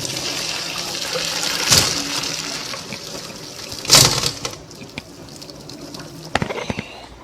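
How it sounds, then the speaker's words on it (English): Hot water from boiled potatoes pours out of a pot, sloshing and gushing in uneven bursts with a couple of louder splashes, close and fairly loud. "Okay, so now we drain them."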